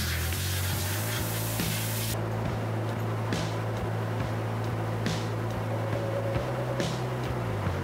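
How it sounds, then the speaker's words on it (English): A spray gun blasts excess sand off AR-15 parts in a coating booth, a loud steady hiss that cuts off after about two seconds, leaving a constant ventilation drone with faint clicks. "When I get in the booth, the first thing I do is spray off all the excess sand"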